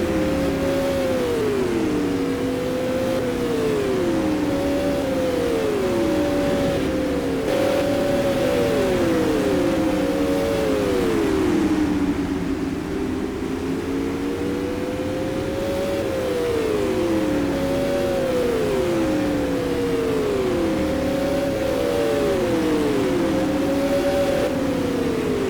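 Supermodified race cars on the oval at Oswego Speedway: several loud engines howl continuously, their rising and falling pitches overlapping in repeating sweeps as the cars circle the track, without any break in the roar.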